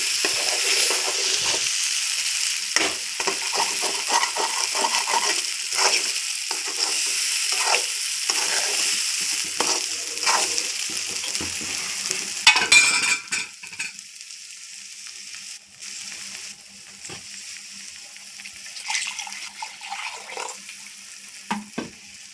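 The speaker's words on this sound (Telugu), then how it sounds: "కొంచెం వాటర్ తీసుకొని చాలా పచ్చి వాసన పోయేదాకా వేయించండి" Masala for an oil-rich brinjal curry fries in a pan with a splash of water, a loud, steady sizzle with scraping stirs that drops to a softer hiss about halfway, leaving occasional stirring clicks.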